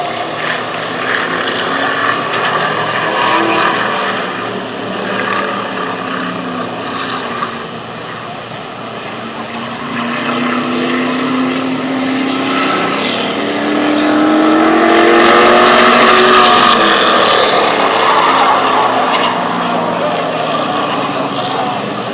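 Race cars roar around Lancaster Speedway during a race, a loud continuous engine drone swelling as cars pass close by, with an announcer talking over the noise.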